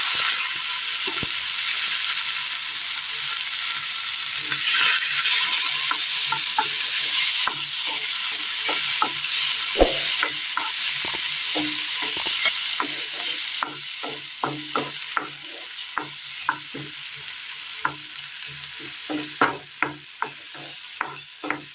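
Tomatoes fry and are stirred in a pan for a tomato and horse gram chutney. A steady sizzle is broken by repeated scraping strokes of a spoon, which grow more frequent and distinct toward the end. No one speaks.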